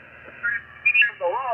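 Ham radio signal received and played through the speaker in the base of an Ailunce desk microphone, heard as short, bandlimited, radio-toned voice bursts at moderate level.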